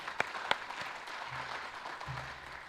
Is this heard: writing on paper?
no